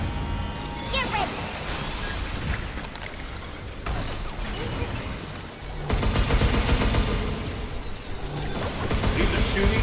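Sustained gunfire in the video game Pragmata, a dense continuous roar of rapid shots and mechanical clatter with no pause across the whole stretch, loud and busy with a voice mixed in.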